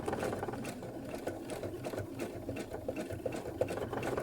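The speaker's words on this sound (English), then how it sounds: "So we're aiming to sew about 1 millimetre away from the edge." A sewing machine runs steadily, its rapid needle chatter stitching close to the edge of a quilt block, a continuous mechanical whir close by without pauses.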